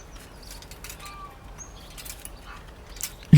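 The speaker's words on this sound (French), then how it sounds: "le chant des oiseaux, tout cela te berce" Sparse, faint bird chirps and short whistles rise from a quiet forest background, with a brief louder knock at the end.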